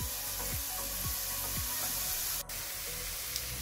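Wild mushrooms fry in fat in a pan, giving a steady, fairly quiet sizzle with a few faint clicks and a soft scrape, and no talking.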